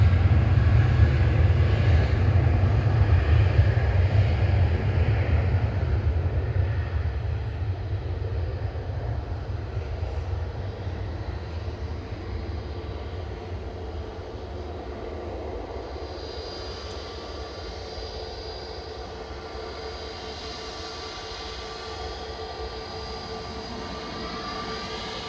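A jet airliner departing Manchester Airport for Dublin on flight 553 roars loudly at first, then fades into a long, steady distant rumble as it moves away, with no talk.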